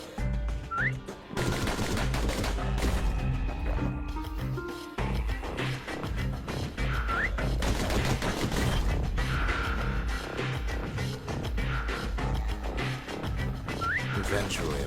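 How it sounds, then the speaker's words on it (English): Customized pistols fire in the video game Bastion in rapid bursts and volleys. Music plays with whistle-like tones, and the shots repeat steadily throughout at close range. "The slingers like to edge each other out using customized pistols."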